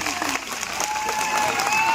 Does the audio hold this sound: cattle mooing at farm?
no